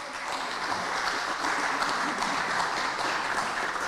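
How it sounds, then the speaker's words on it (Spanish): Steady, fairly distant applause from an audience at a book presentation event, an even wash of clapping throughout with no voices standing out. "aplauso por favor para ambos"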